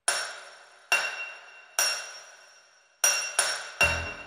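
A blacksmith's hammer strikes metal in a Czech fairy-tale audio drama. Five loud, ringing clangs arrive at uneven intervals, each decaying before the next, with the last two coming close together.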